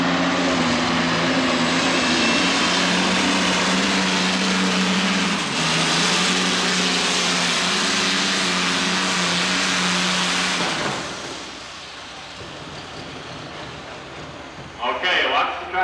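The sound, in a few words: pulling tractor with two Allison V12 aircraft engines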